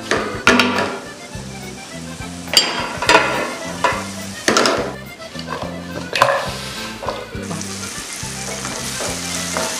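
Food fries in a pan with loud, close sizzling that rises in repeated bursts, mixed with the scrape and clatter of stirring over nearly ten seconds, with no talking.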